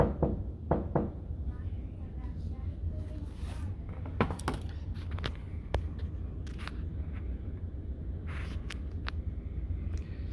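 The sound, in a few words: knocking on a window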